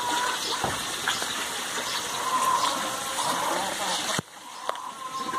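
Water gushes and splashes as an aquaponics fish tank drains during a water change, a moderate continuous rush that ends abruptly near the end, followed by faint drips and clunks.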